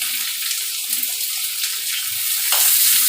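Long-sliced onions hit hot oil with cumin tempering, heard as a loud, steady, hissing sizzle that builds slightly toward the end, with no voices.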